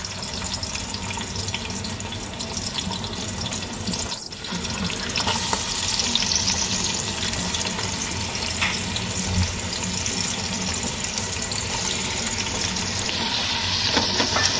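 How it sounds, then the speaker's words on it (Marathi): Sliced onion with bay leaves sautéing in a pan for rice, a steady close hiss and sizzle throughout with a brief thump early on and faint scraping stirs. "कांदा छान परतून घ्यायचा आहे"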